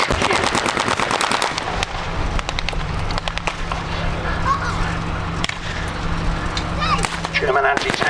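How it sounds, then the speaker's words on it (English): Rapid bursts of gunfire ring out across an open battlefield as German anti-tank vehicles open fire in a reenactment of a land battle, with dense crackling shots and a steady low vehicle rumble underneath. "German anti-tank vehicles opening up."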